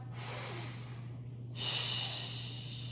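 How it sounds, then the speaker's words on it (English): A deep breath during a Pilates mat exercise: a long, soft inhale followed by a brief pause, then a stronger airy exhale, close and quiet over a low background hum. "Deep breath."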